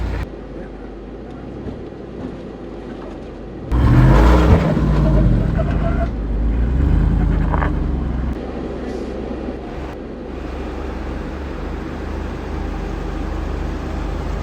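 A Ford Bronco or Jeep Wrangler 392 V8 works a rocky Moab off-road trail, its engine rumbling steadily then surging louder in a throttle rev that eases back to a low idle drone.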